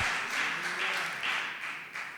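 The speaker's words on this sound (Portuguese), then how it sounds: "Você pode aplaudir o Senhor?" Steady applause from a church congregation, a dense wash of clapping that swells and dips slightly, with no voices on top.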